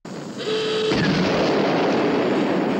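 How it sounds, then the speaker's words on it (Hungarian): Cartoon explosions roar as spilled fuel and a large store of ammunition ignite in a harbour at night, a sudden loud blast swelling into a sustained, dense rumble of fire and detonations. "Lángba borul a fél kikötő, robbanások világítják meg az éjszaka sötétjét, Nagy Miki a daru szörnyet hal"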